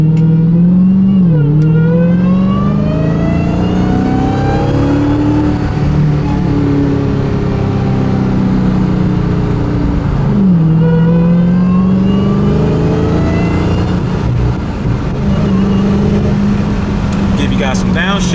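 A Dodge Hellcat fitted with a loud aftermarket intake accelerates hard from inside the cabin with the window down, its supercharger whine rising through gears, with several shifts and downshifts breaking the climbing engine note.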